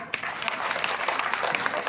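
An audience at a mothers' conference in a school hall applauds a family, giving a brief burst of dense, crackling clapping at moderate loudness, with a voice heard along with it.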